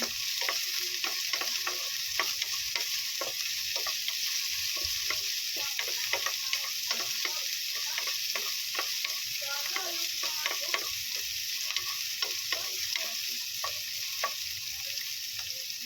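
Onions sautéing in a pan, a steady soft sizzle broken by frequent clicks and scrapes of a utensil stirring against the metal, fairly faint and close with no talking.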